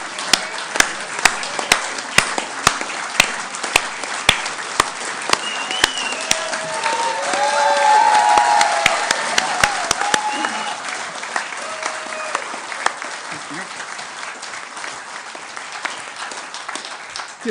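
A conference crowd at the ALBA Party Spring Conference 2023 keeps up continuous applause for an arriving speaker, dense clapping swelling briefly in the middle with some cheers and murmured voices before settling to a steady patter.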